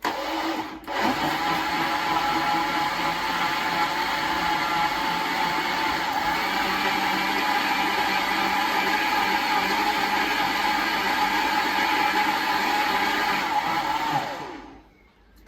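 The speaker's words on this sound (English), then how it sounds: "Put the lid on, guys. Sorry about the noise you're going to get in a minute." A blender blending a Bloody Mary cocktail roars loudly and continuously for about fourteen seconds, its motor whirring steadily before cutting off abruptly.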